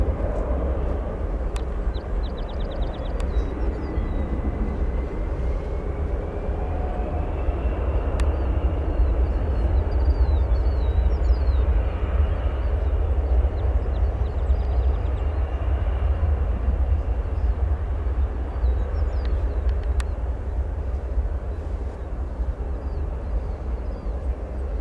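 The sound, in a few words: departing SAS Airbus A330 at O'Hare airport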